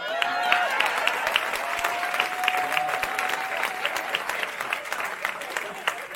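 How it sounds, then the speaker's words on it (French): A crowd at a hotel event applauds in a sustained, even wash of clapping, with a faint held tone and murmuring voices threaded through it. "Et c'est là qu'on applaudit."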